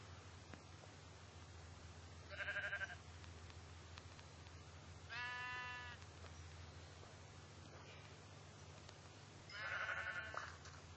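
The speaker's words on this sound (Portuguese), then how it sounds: "Ali tem aquela ovelhinha." Sheep in the Minecraft video game bleat three times in short separate bursts over a steady low background hum, fairly quiet and evenly spaced.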